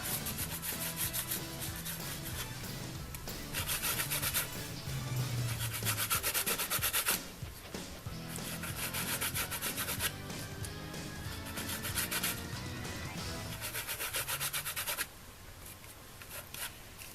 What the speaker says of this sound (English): we're just going to rub black paint over the